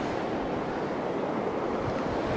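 Sea waves wash steadily along a seaside shore at about six in the morning, a continuous broadband surf rushing with wind buffeting the microphone and no voices.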